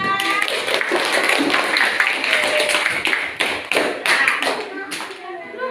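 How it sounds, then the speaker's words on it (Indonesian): A classroom applauds a group's presentation with a burst of light, uneven clapping and tapping from many hands, mixed with voices talking throughout. "Beri aplaus semuanya"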